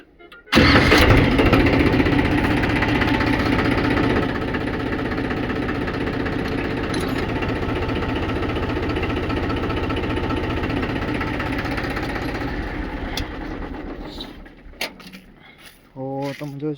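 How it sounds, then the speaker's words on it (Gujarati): A tractor engine cranks and catches abruptly, then settles into a loud, steady, rattling idle close by on a farm. It sputters and dips near the end. "ટ્રેક્ટર ચાલુ કરી લઈએ."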